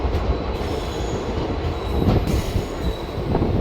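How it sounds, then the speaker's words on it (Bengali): A train pulls into Sevok station among hills, the loud rolling clatter of wagons and wheels on rails with faint squeals, continuous and close, with no talk. "ট্রেন সেবক স্টেশন এন্টার করছে।"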